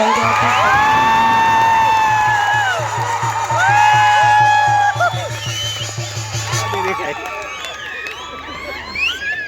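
A village crowd at a political speech cheers and whoops loudly, excited shouts and children's voices rising together, then thinning out toward the end.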